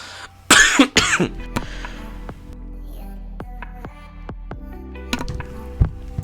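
A loud cough bursts out twice in quick succession, followed by sharp clicking taps scattered through the rest of the clip.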